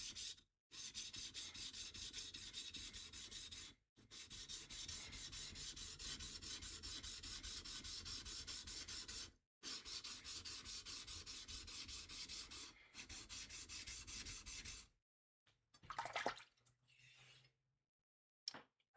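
A blade bevel is worked by hand on a 400 grit sharpening stone, making long, steady rasping strokes broken by brief pauses, close and fairly loud, with faint handling noises at the end.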